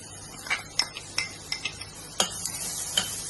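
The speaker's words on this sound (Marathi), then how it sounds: "तूप चांगला तापवून घ्यायचा आणि तापला की त्याच्यात घालायचो कांदो" Sliced onion frying in hot ghee for a Malvani egg curry, a soft continuous sizzle with repeated scraping stirs and a few sharp utensil clicks against the pan, close and moderately loud, no voices.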